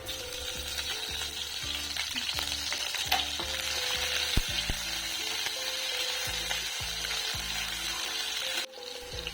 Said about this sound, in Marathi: चला तर आपण आता मिरची टाकून घेऊयात तेलामध्ये